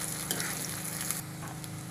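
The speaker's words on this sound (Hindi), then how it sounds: "लो फ्लेम करके प्याज ऐड करनी है ताकि छींटे ना आए, और अच्छे तरीके से चला देंगे।" Onions fry in hot oil over a low flame for Lucknowi chicken biryani, making a dense, steady close-up sizzle with a faint low hum beneath.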